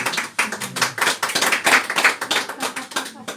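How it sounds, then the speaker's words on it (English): An audience at a live card magic show applauds, a brisk run of close, crisp hand claps that stays lively and fairly loud from start to finish. "Don't applaud her, she's had enough already."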